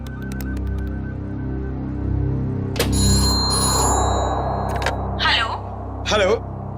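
A telephone rings on an outgoing call, giving repeated bright ringback tones in the middle of the clip, while someone talks before and after the ringing.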